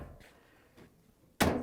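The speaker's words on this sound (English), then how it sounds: "close the door." The door of a Samsung dryer, with its front panel being removed, shuts in a single loud, close thud. It comes after a couple of faint handling noises.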